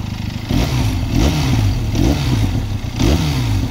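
A 2022 Benelli 502c motorcycle engine revs in several close, loud bursts, each swell settling back into a low, uneven burble between blips, with no talking.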